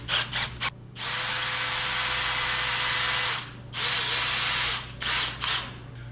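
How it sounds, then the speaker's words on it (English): An electric drill spins up in several bursts to twist folded welding wire clamped in a vise: short whirring pulses, then two long sustained runs and a few more brief spurts, close and loud with no talk. "I fold it in half a couple times, put it in the vise, put the other end in my drill."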